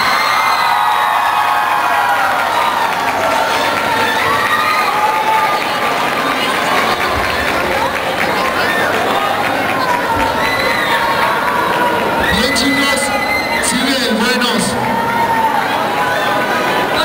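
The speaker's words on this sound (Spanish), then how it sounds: "Un fuerte aplauso para el segundo lugar" A festival awards crowd at Shirotsuki Fest 2012 in Guadalajara, Mexico, cheers, whoops and shouts for the second-place team, a loud continuous roar of voices with children's shrieks, building near the end.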